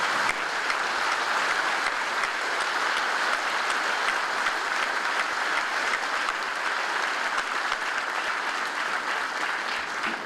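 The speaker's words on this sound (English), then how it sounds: "Please join me in a round of applause as we recognize the tremendous efforts they and all the cadre have exerted training these new soldiers." Steady, sustained applause from a large audience at a basic combat training graduation honouring drill sergeants and cadre, a dense even wash of clapping lasting throughout.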